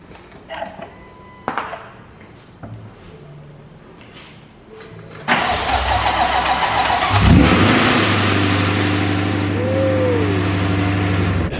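A rebuilt 1200-horsepower 2020 Shelby GT500 engine cranks and fires up at about five seconds, then settles into a loud, steady rumbling idle with a brief rev, after some quiet clicks and handling noises.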